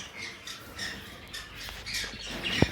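Lovebirds and conures squawk and chirp while feeding, scattered bright calls at close range that end in one sharp, loud squawk.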